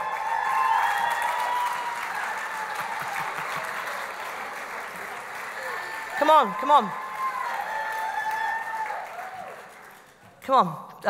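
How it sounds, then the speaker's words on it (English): An audience at a company success day event applauds a manager called up on stage, a long steady wash of clapping with a voice calling out over it twice near the end. "Give Anne a round of applause"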